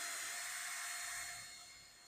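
A drill bit spins against steel to mark it while building a router sled, a steady high whine that holds for over a second and then winds down as it fades.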